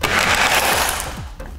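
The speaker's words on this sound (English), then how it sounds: "I can just make sure the blender breaks those up without really blending them in." A blender crushes candy pieces into a frozen caramel apple mix, making a loud, close, whirring grind that runs continuously for the short burst and then tapers slightly at the end.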